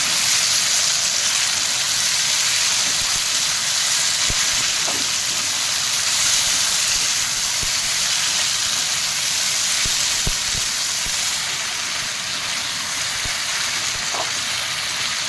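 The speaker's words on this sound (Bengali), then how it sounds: "এবার দিয়ে দিচ্ছি আমি সর্ষে আর দুটো শুকনো লঙ্কা বেটে রেখেছিলাম, সেই বাটাটা দিয়ে বেশ ভালোভাবে কষিয়ে নেব" A ground paste of mustard seed and dried chilli fries in a pan with a steady, loud hiss and sizzle, with only faint clinks.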